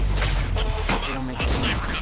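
Sniper gunfire in the video game Quantum Break, a few sharp shots cracking over a dense, busy combat din, with voices talking in between.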